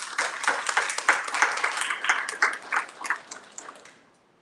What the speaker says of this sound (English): I want to give Nancy a round of applause for her contributions